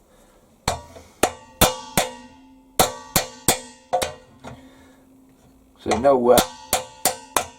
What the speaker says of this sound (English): I'm just bashing the brackets back somewhere near flat.